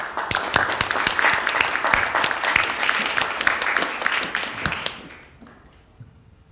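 An audience at a harpsichord lecture breaks into dense, loud applause that fades out after about five seconds.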